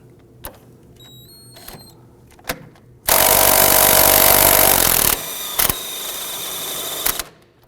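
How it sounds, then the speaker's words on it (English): A ratcheting socket wrench loosens a 15mm nut atop a front strut on a 2008-2011 Ford Focus, with a few sharp metallic clicks and then a loud sustained rattling whir for several seconds. "We're going to use our socket to go ahead and loosen that nut."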